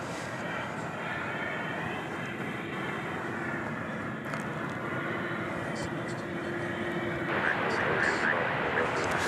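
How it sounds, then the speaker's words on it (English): An American Airlines Boeing 787-9 at DFW Airport at night gives a loud, sustained jet roar with a rising whine, swelling toward the end while someone talks over it. "This looks to be an American Airlines the 7879."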